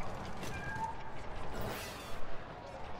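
In the shooter game Super Monday Night Combat, a kitty turret meows briefly a few times amid busy, noisy match sounds.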